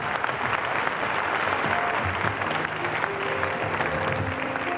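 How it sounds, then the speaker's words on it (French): Audience clapping for Jean-Marc Ducrot on a French TV show, a dense steady wash of hands with faint tonal hum beneath, continuous for the whole span. "on applaudit Jean-Marc Ducrot"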